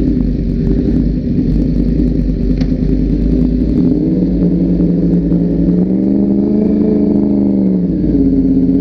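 Yamaha R1 sport motorcycle, roughly 180 horsepower, idling with a loud, close rumbling engine note that swells into a revving rise and falls back, continuous for the whole stretch.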